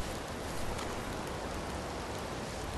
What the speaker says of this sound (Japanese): 雨か。